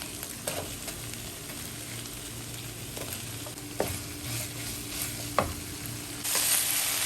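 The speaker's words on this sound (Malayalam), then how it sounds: "ഇനി ഇതിലേക്ക് സ്ലൈസ് ചെയ്ത് വെച്ചേക്കുന്ന ഒരു ഒണിയൻ അങ്ങ് ഇട്ട് കൊടുക്കാം" Sliced onion goes into beef bulgogi frying in a pan, giving a steady close sizzle with occasional stirring scrapes and small pops. The sizzle brightens toward the end.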